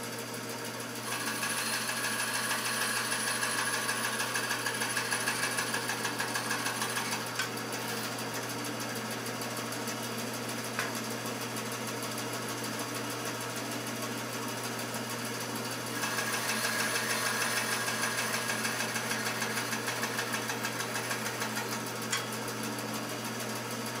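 An Accu-Wedge machine cuts a wedge very slowly and gives off a continuous, fairly quiet mechanical drone with a fine high whine. The sound stays steady throughout, with slight shifts in intensity and no talking.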